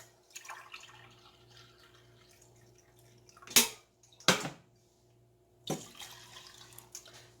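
Water being poured into a pot for a dry-mix cream of chicken and mushroom soup, a few short bursts of splashing pour separated by quiet gaps, close and fairly faint, with no talking.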